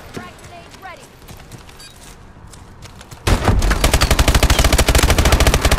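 Gunfire in the video game Call of Duty: Advanced Warfare begins with quieter game noises and scattered sounds, then turns into a loud burst of rapid, evenly spaced shots for the last few seconds, with a voice heard in the background.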